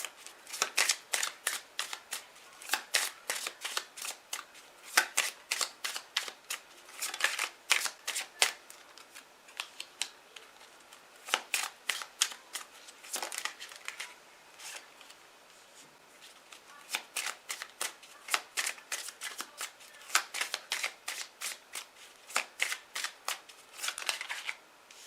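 Tarot cards are shuffled at close range in bursts of quick, crisp riffling and tapping, with brief gaps between runs across a long stretch and no voices.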